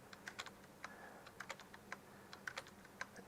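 Soft, quick keystrokes clack on a computer keyboard in an irregular rhythm, close but quiet, with a faint steady hum behind them.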